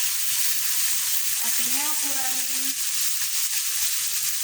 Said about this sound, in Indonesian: Ini saya tumis daging